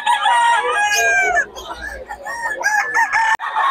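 Roosters crow loudly and up close among clucking chickens at a fowl sale, several overlapping calls in quick succession.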